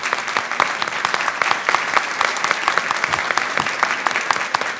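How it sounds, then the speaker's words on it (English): A room full of people claps for panelists at a Latino research summit, dense and lively applause with sharp individual claps standing out, fairly close and loud. "Please, a round of applause for them."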